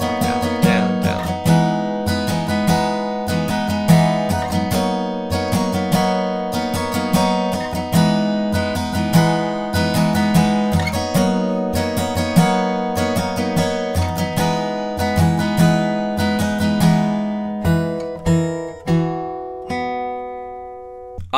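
Acoustic guitar strums the bridge of Alanis Morissette's Ironic in a down-up pattern, bright percussive chords pulsing steadily and close for about twenty seconds, then a last chord left to ring.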